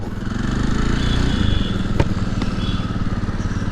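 A Jawa 42 Bobber motorcycle engine runs steadily while riding, a loud, close, continuous thumping drone with a faint clatter and no talk.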